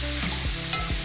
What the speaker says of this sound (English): All of the mushrooms are now in the pan. They're all lovely and golden, and I'm just gonna add a big old knob of butter.